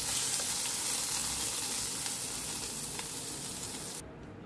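A tadka of cumin, asafoetida, curry leaves and green chili sizzles loudly and steadily in hot oil, a close, continuous frying hiss that drops off abruptly near the end.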